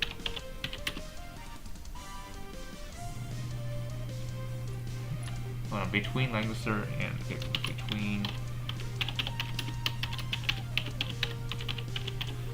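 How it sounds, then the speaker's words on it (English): Computer keyboard typing during a Langrisser M mobile game session, rapid continuous key clicks and taps heard close under game music with a steady tone, while a person talks briefly. "Let me mute myself really quick because I think you might hear my keyboards going off."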